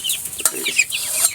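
Three local roosters cluck steadily while pecking at feed, close and fairly loud, with overlapping short calls and no talk.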